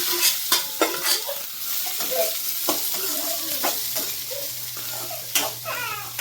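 Tempering sizzling for guggri, a cowpea dish, a steady frying hiss broken by sharp spatters and stirring clatters from the pan, close and clear.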